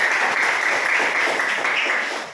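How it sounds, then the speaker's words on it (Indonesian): A class of students claps together, a continuous crackle of applause at close range that stays steady and fades slightly at the end. "berikan aplaus untuk semua"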